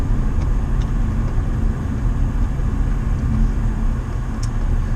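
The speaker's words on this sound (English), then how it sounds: "We are still driving around." A car rolls along a road on a Low Country trip near John's Island, a steady low rumble of engine and tire noise heard from inside the cabin, continuous and even throughout.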